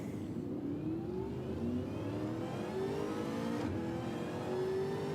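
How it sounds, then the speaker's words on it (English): A racing car engine in a Supercars video game revs up through several gear changes, its rising pitch climbing in repeated sweeps at a steady moderate loudness with no talk over it. "I think we might have car sounds again."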